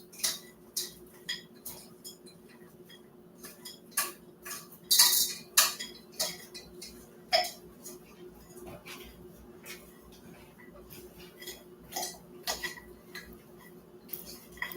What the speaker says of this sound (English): I'm making a salad in a pot because I forgot to get big bowls